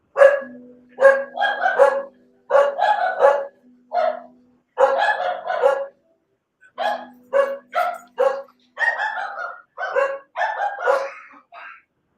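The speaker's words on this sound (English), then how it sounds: "There we go with the dogs again." Dogs bark loudly and close by, in repeated bursts of several barks with short pauses between them. The barking runs for about twelve seconds over a faint steady hum.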